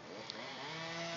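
A chainsaw cuts off a tree top high up, a steady loud engine drone that runs throughout this brief moment.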